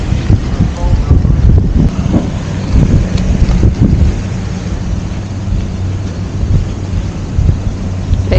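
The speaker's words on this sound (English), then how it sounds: "The storm really intensified as the day went on." Storm wind roars in a constant heavy rush across the microphone near high water, a loud buffeting drone with low rumbling gusts throughout.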